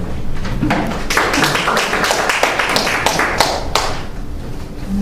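An audience at a civic policy forum applauds a speaker being introduced, a steady patter of moderately close hand claps sustained for several seconds before tapering off.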